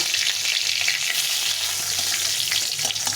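Dry red chillies and bay leaves sizzle steadily in hot oil as a tempering for a bitter shukto-style dal, a continuous close, fairly loud crackling hiss with small pops and no voices.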